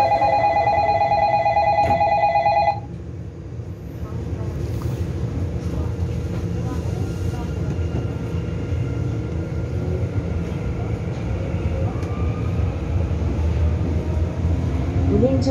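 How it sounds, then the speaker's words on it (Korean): A Sillim Line light rail train pulls away and runs along the track in Seoul, a steady low rumble filling the car after a short electronic chime, with a recorded announcement voice over it. "열차 곧 출발합니다. 출입문 닫습니다."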